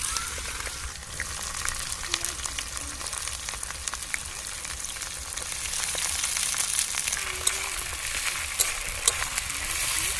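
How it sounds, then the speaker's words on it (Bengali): Onion frying in a pan for chicken curry after whole cumin seeds go in, a steady close sizzle and crackle that continues throughout with occasional stirring scrapes. "পেঁয়াজটা আমি মিনিট দিয়ে এভাবে ভালো করে ভেজে নেব"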